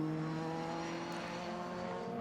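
Formula 3 race cars from the FIA F3 European Championship, fed by engine makers such as Volkswagen, Mercedes and Tomy for Nissan, drone steadily at a moderate, held-back pitch. The loud engine note runs for the whole stretch with no talk over it.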